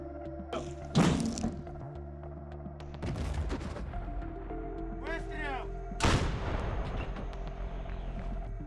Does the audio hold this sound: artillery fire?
yes